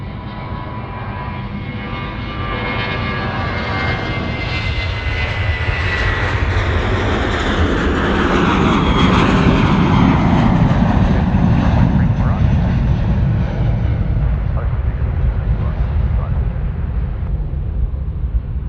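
A Qantas airliner lands on runway 34 right at Sydney Airport, its loud, continuous jet roar swelling over several seconds and then holding steady as the aircraft passes close by.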